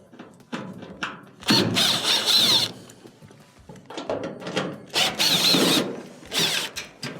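A power screwdriver backs three Phillips screws out of the bottom lip of a clothes dryer's top panel, giving several short whirring bursts separated by pauses and light handling clatter.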